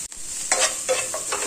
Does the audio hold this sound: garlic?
yes